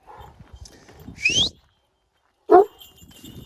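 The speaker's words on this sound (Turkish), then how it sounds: "köpek gördüler koşmaya başladılar" A dog gives a couple of short, sharp barks or yelps amid rustling and movement, fairly close, with quiet pauses between.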